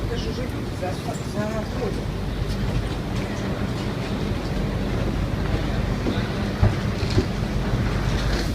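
Steady low rumble and rattle inside a moving double-decker airport train to central Moscow, with muffled voices and occasional clunks throughout.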